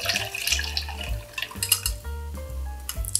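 Garlic-infused cucumber cold soup broth being poured through a strainer, with splashing liquid and light clinks of bowl and utensils in short bursts.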